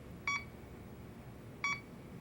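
Two short electronic beeps from a detector in the video game Lost Judgment, bright and tonal, about a second and a half apart over a faint low hum.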